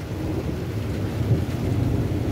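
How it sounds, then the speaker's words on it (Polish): Rain falls steadily outdoors, a low, continuous rushing wash with a slight rumble, no voices over it. "pada deszcz."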